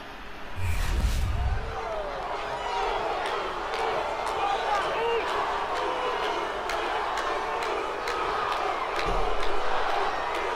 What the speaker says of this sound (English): The crowd chants Uso.